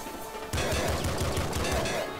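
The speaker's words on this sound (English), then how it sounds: "This sawn-off shotgun is really fun." A sawn-off shotgun fires in the video game Nuclear Throne, a sudden loud blast followed by a rapid run of punchy, evenly spaced low thumps, all close and dense, with no voices.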